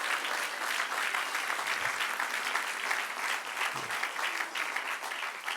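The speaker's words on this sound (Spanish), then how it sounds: "denle un aplauso al que reina" Steady, loud applause from a large church congregation fills the whole stretch, dense clapping with no pauses and no voices standing out.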